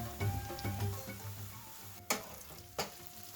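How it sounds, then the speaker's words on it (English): Onions frying in a pan for a beef pilau, a steady sizzle with a few clear clacks as they are stirred and turned, close and alone without talk. "Always turn your onions as you go"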